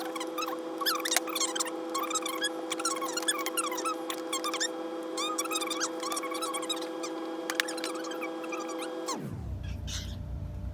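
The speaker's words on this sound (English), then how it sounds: "Sorry, that was my bird. She's very noisy." A pet bird lets out a rapid series of high chirps and squeaky calls over a steady hum, fairly close, then falls quiet near the end.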